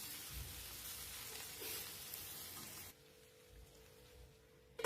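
Thinly sliced okra fries in a pan as it is mixed, giving a steady soft sizzle that drops abruptly to a quieter hiss partway through, ending with a brief clack.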